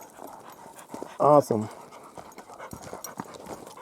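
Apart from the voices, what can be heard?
dog panting on forest trail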